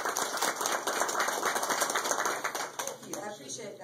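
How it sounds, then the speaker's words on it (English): A crowd claps briskly in a room, a short burst of applause that thins out toward the end, with some background murmur. "so let's give her a round of applause"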